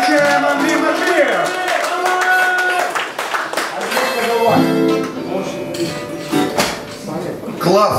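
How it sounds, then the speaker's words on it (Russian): Audience clapping at a live event in a coworking space, loud and dense for several seconds, mixed with music and voices talking over it. "Еще раз аплодисменты Гере и встречаем Андрея Мажиева."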